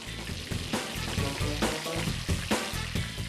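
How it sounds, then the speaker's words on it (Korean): Dense, continuous sizzling of Korean honey bread frying in hot oil, about eighty at once, close and fairly loud, with occasional soft clinks and stirring sounds. "한 번에 80개의 꿀빵을 튀겨내는 작업자."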